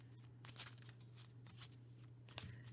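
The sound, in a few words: shuffling a deck of cards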